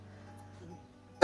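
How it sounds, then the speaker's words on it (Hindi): A single short, sharp cough comes close at the end of a quiet stretch of faint room hum. "खांसी हो रही है, पता नहीं क्यों"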